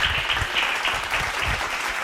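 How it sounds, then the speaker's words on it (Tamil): A congregation at a late-night Bible study claps together in a lively, sustained burst of applause lasting a couple of seconds, fairly close and loud. "கைத்தட்டுங்க ஒருத்தருக்கு ஆமென், பிரைஸ் காட்."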